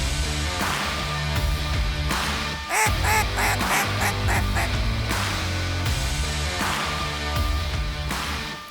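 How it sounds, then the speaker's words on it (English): A large flock of 150 to 200 wood ducks calls over Ontario hunting grounds, with dense overlapping squeals and quacks in repeated bursts, loud and close, with no talking. "got about 150 to 200 wood ducks are coming from the northeast here"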